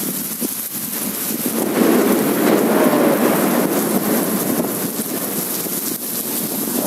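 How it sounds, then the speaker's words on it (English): Rain falling outdoors on a hot day, a steady broadband hiss that swells slightly and holds throughout, loud and close with some wind buffeting the microphone and no voices. "God bless the rain."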